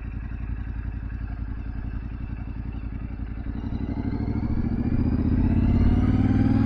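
A Yamaha Ténéré 700 adventure motorcycle idles with a steady mid-pitched throb, then its engine note rises and grows louder as the bike accelerates during fast braking practice, with no talking over it.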